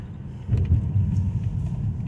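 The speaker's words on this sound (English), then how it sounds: "It's the first time that we've actually seen cars driving" A car passes at close range on a snowy mountain road through burnt forest after a snowstorm, a low steady engine and tyre rumble that swells slightly and then holds.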